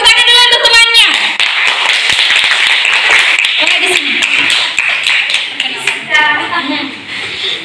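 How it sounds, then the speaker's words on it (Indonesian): Indonesian school students clap their hands during a museum visit, sharp crisp claps in bursts mixed with loud nearby voices and chatter, including some sung or chanted tones at the start and end. "tepuk tangan dulu untuk temannya"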